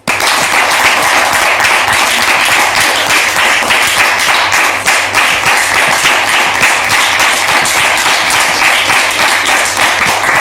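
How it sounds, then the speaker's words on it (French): Dense, steady audience applause filling the room at a loud level, continuous clapping throughout as guests are welcomed at a church-style event, with no talk over it. "Sous vos applaudissements, s'il vous plaît."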